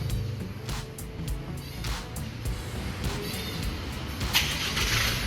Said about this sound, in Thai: รถทำการ สตาร์ทแล้วนะครับ ผม สังเกตได้จากเสียงเครื่องยนต์นะ ครับ